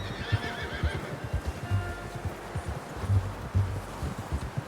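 A horse whinnies faintly amid steady outdoor ambience in Red Dead Redemption 2, with low thumping hoofbeats and rustling throughout.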